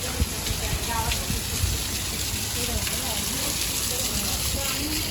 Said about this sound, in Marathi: बघा मित्रांनो छोटे छोटे धबधबे आहेत